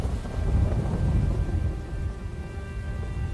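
A thunderstorm with rain evoking destructive hailstorms, heard as a steady low rumble and a dense hiss of rainfall with wind buffeting the microphone, continuous and fairly loud.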